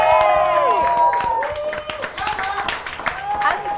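Audience applause and cheering welcome a singer on stage at a 2017 live event, a steady loud clatter of clapping with whoops over dense crowd noise throughout.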